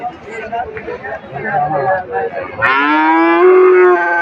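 Cattle moo loudly at a busy cow market in Pabna district, one long drawn-out bellow rising over the murmur of a crowd, with people talking in the background before it.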